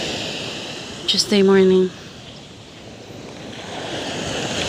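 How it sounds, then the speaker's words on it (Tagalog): Rough ocean waves at La Union beach make a steady, broad roar of surf that swells louder toward the end. A voice briefly speaks over it early on. "Galit na galit yung mga alon."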